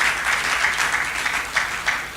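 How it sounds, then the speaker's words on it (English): Brief burst of audience applause at a patriotic rally, a moderately loud spread of clapping from a crowd, steady with slight swells. "Please join me to give them a resounding round of applause."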